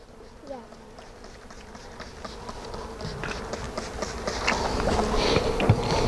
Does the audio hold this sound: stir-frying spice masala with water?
no